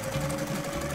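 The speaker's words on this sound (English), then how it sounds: "Set up the sewing machine." A sewing machine stitches sequin fabric for a doll outfit, a steady, close, mechanical whirring hum that runs without a break for the whole second, with no voices.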